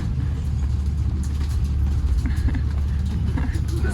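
Rumbling vehicle ride over a bumpy track through deep sand on an Antelope Canyon tour near Page, Arizona, with a steady, loud low engine drone and jolting thumps throughout.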